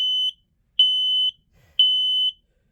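A household smoke alarm under test gives three loud, piercing electronic beeps of about half a second each, evenly spaced and close by, with silence between.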